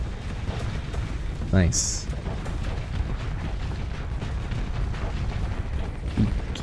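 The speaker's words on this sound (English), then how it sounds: "Keep firing all the guns." Starsector space battle at full assault, ship guns firing continuously with dense rumbling explosions and a couple of sharper bursts, with a voice speaking briefly over the din.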